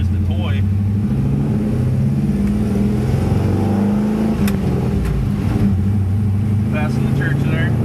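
A Squarebody pickup truck out for a cruise gives off a loud steady engine drone and road rumble with shifting pitch as it accelerates, heard from inside the cab.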